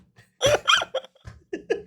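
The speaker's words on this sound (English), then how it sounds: "I got a burp coming." A man lets out a short, forced burp among a few quick hiccup-like bursts and chuckles, close and fairly loud, with brief pauses between the sounds.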